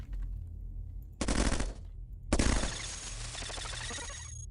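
Vehicle-mounted guns blaze in a mech combat video game: a sustained automatic burst, a short pause, then a longer roaring stream of rapid fire, loud and close over a low engine rumble.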